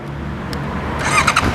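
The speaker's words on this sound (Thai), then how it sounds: "มาฟังเสียงท่อกันมา" A 2019 Honda CBR650R with a Moriwaki full-system exhaust, heard as a loud, close engine starting and catching with a rising squealing note, then settling into a steady idle.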